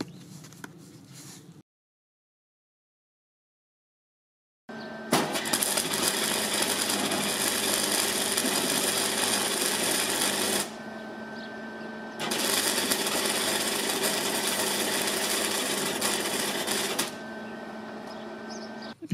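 Parkside PFDS 3 flux-core wire welder laying a bead, a loud continuous crackling hiss in long sustained runs broken by short pauses, with no voices.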